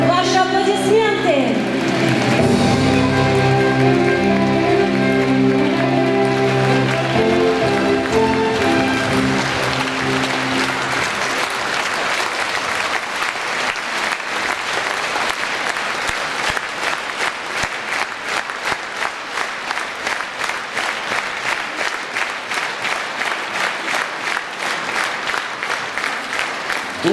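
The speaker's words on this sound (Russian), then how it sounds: "Ваши аплодисменты!" After a brief musical passage fades, a large audience at the closing ceremony of the Kazan film festival breaks into sustained, steady applause that settles into rhythmic clapping and continues to the end.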